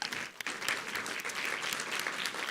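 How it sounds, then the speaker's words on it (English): Audience applause for a presenter's team at a conference session on women's financial inclusion, a faint, brief burst of many hands clapping with a few sharper individual claps. "Round of applause for them."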